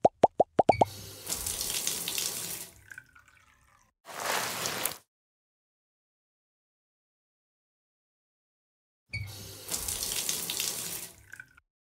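Bath water running from a tap in the Sarah & Duck children's video game, splashing bursts of gushing water after a few quick plops, stopping and restarting with silent gaps between.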